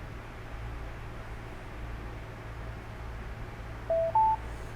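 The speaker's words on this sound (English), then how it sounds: "you can hear that jingle, which means it's connected" Two short rising electronic tones chime near the end, over steady low hiss and hum, a brief confirmation jingle as a BOTE MagneBoom Bluetooth speaker connects.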